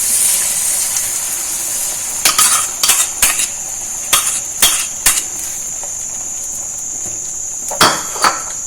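Beaten egg is poured into a hot pan for a potato omelette, bringing a steady sizzle, followed by scattered metallic clinks and scrapes of a utensil against the pan.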